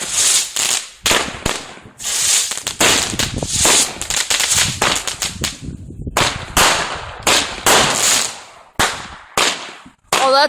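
Consumer fireworks at a small backyard Fourth of July show, including a Magnum shell and a Toot and Twirl, crackle and pop in dense bursts of sharp bangs and fizzing, loud and continuous with brief gaps.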